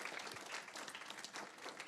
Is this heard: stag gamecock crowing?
no